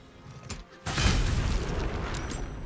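Fire burning entangling vines in Baldur's Gate 3, a sudden whooshing ignition followed by a steady, loud roaring crackle of flames that holds to the end, with no talking.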